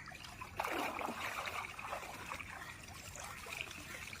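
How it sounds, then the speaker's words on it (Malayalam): A clam-gathering net dragged through river water and mud gives a faint, continuous swishing trickle and gurgle of moving water, with a slightly stronger surge near the start. "രണ്ട് കൈ കൊണ്ട് പിടിച്ചിട്ട് നമ്മൾ നന്നായി വെള്ളത്തിൽ താഴ്ത്തി ചെളിയിലൂടെ വരണം"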